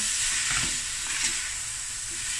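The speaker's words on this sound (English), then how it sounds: "Flash fry." Chopped parsley, garlic and jalapeño hit hot oil in a pan and flash fry with a loud, steady sizzle, with faint stirring underneath and no talking.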